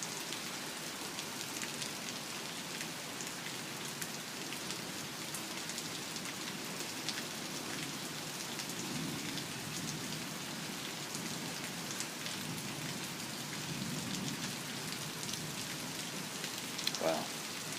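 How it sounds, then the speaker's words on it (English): Steady heavy rain falls in calm air ahead of a thunderstorm, a constant loud wash of drops hitting surfaces throughout, with a brief louder patter near the end. "Heavy rain,"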